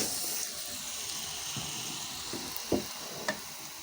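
A sugar and egg pitha frying in a pan, a soft continuous sizzle with a few sharp clinks and taps of a utensil, close but fairly quiet.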